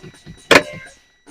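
Truck air brake system bleeding air: one short, loud hiss-like burst near the middle, with faint mechanical thumps before and after, nothing else prominent.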